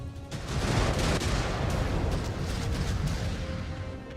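Dense, continuous battle noise from the MechWarrior 5: Clans video game, with incoming missiles and weapon fire blending into a loud, rumbling barrage that runs through the clip without a break.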